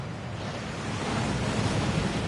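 A waterfall rushes steadily in the Hogwarts Legacy game, a loud, dense, continuous roar with no pauses and no voices.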